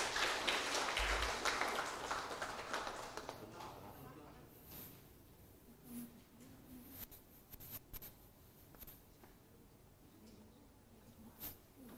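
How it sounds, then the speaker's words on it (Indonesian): A crowd at the launch of Universitas Putra Bangsa in Kebumen applauds the new rector. Loud, dense clapping fills the first few seconds, then fades to a quiet hall with scattered small sounds. "Tepuk tangan ya, silakan."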